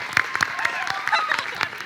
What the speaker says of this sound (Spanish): ahora pon el aplauso, por favor